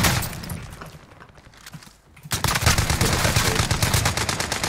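Rapid, loud gunfire in the video game Call of Duty Warzone, a dense stream of shots after a quieter lead-in, with a shotgun among the weapons in the fight.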